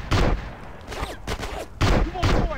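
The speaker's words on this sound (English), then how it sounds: "Who is shooting?" Gunfire in Grand Theft Auto: San Andreas, a few sharp, loud bursts of shots separated by short gaps, with someone talking over and between them.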